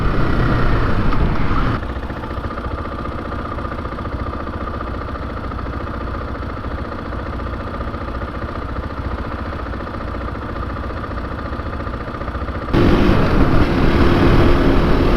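A motorcycle engine idles continuously with a low, even rumble, growing slightly louder and rougher near the end.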